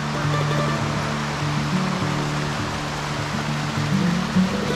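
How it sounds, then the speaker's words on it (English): Korana River water flowing steadily past the village of Rastoke, Croatia, a continuous broadband rush close by with no pauses, holding level throughout. "I think this is the Corana River"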